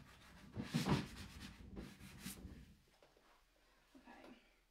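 Furniture coated in cranberry chalk paste mixed with texture additive gets a light hand sanding, a few soft close rubbing strokes that fade to quiet.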